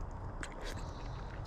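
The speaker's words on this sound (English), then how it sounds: "let's take some first bites" A person bites and chews pasta close to the microphone, with a few soft crunchy, wet bites and mouth sounds, quiet and intermittent.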